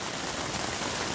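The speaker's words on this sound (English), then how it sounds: "rain is coming down pretty hard right now" Heavy rain pours steadily on an Alpine hiking trail below a mountain pass, a dense, even hiss of drops close by with no let-up and no voices.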